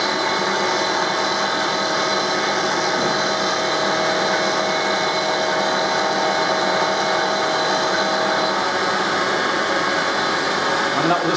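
A lathe steadily faces off the sawn end of a workpiece, giving a continuous close whirring hum with a faint cutting hiss, unbroken from start to finish.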